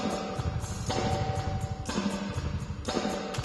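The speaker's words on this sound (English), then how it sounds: "the great sound of a spring reverb" A drum loop plays through a Cubase 10 spring reverb plugin, each kick and snare hit trailing a splashy, boingy metallic wash that repeats in a steady pattern.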